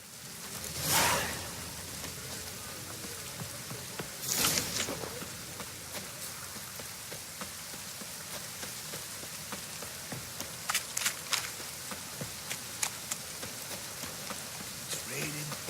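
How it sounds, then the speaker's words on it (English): Steady rain falls in the fantasy video game The Witcher 3, a constant hiss broken by a couple of louder gusts and scattered sharp taps near the end. "It's raining buckets."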